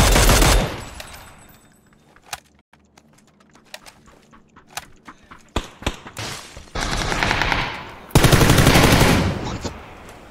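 Rapid machine gun bursts from a video game shooter, scattered single cracks and short volleys building into long, loud sustained bursts toward the end.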